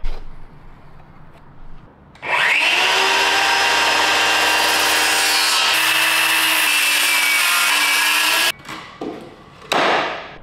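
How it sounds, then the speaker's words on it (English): A wooden shelf board being worked with a power tool, a loud sustained whining run for about six seconds that shifts pitch midway, then cuts off and restarts briefly, with no talking. "We need to cut this to size. I want to sand it and stain it."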